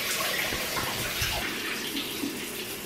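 Water from a home shower runs in a continuous, fairly loud rush, steady and unbroken throughout, with no voices over it.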